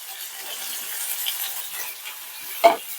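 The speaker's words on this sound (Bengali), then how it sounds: "অল্প ভেজে নিয়েছি এরপর এটাতে দিয়ে দেবো মটরশুঁটি" Green peas tipped into kohlrabi frying in a pan, then stirred: a steady close sizzle with soft scraping strokes and a sharp clink near the end, no voices.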